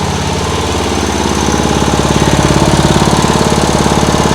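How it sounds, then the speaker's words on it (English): Lawn mower engine repurposed as a boat outboard motor running loud and close, a rapid rhythmic chugging that swells and pulses slightly as it surges, with no voices. "the engine sounds really nice"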